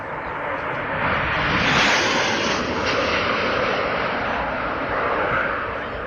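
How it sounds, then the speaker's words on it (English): A Turkish Air Force F-16 fighter jet makes an extremely low flyby, a loud, continuous broadband roar that swells slightly midway and holds steady throughout. "Turkish Air Force F-16 fighter jet passing an extremely low altitude"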